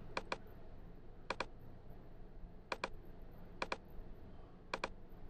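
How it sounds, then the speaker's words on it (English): Sharp mouse or keyboard clicks while editing in Apple Motion, arriving in five spaced pairs of quick double clicks over a steady low background hum, with no talking. "hold down the command key and click on your control points"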